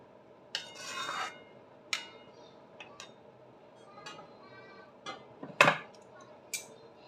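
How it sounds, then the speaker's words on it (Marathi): Parts of a child's bike being assembled by hand: sparse scraping, rasping and metallic clinks and ticks at irregular intervals, close by and fairly quiet, with stretches of near silence between. "इथे आमचं क्रिशाची बाईक असेंबल करणं सुरू आहे"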